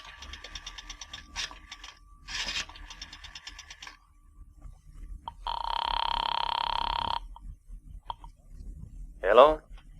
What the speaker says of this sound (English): dropped a nickel in the slot, and dialed